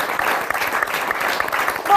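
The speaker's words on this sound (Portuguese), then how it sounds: "Um aplauso para a mamãe." Audience applause at a Portuguese television interview, dense steady clapping over the whole stretch with a voice faintly mixed in, swelling louder at the very end.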